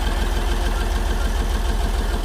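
An International Harvester 1066 tractor engine, rebuilt at 3,000 hours with adjusted valves, runs steadily at a barn-find auction, a loud, continuous close-up rumble with a fast even throb and no talk over it.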